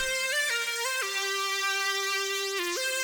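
Synth lead with a bright, piercing top end, played alone as a few sustained, gliding notes with sharp pitch changes, loud and close.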